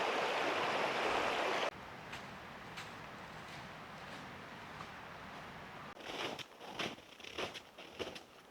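Flowing water of the Kropa and Mostnica streams at their confluence rushes loudly at first, then continues as a softer steady burble, with a few irregular rustling knocks near the end.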